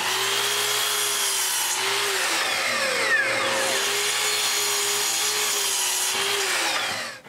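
Power saw cutting wood pieces for a staircase gate railing, a steady loud whine with pitch shifting as the blade works through the timber, continuous for several seconds with no talk.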